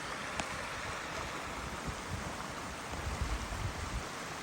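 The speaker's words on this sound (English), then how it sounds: "This is my campsite right here by the creek with a little waterfall flowing into it." Steady rushing water of a small waterfall pouring into a creek at a winter backcountry campsite in the Shining Rock and Middle Prong Wilderness, a continuous broadband wash with no voices.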